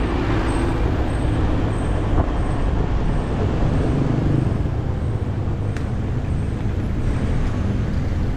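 Dense road traffic at a festival in Quezon province rumbles on continuously, with buses and trucks idling and crawling, short hissing air-brake releases and a faint high whine over the steady low drone.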